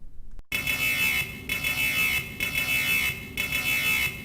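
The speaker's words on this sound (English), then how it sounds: "Listen to an alarm message sample." A loud electronic fire alarm tone sounds over a plant PA system, pulsing in repeated long blasts with short gaps between them, coming through alone before an announcement.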